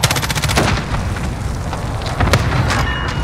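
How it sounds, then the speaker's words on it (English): A precision airstrike in Call of Duty Warzone unleashes a rapid barrage of loud, booming blasts with crackling gunfire-like bursts throughout, the impacts rolling together continuously. "Be advised, friendly precision airstrike inbound."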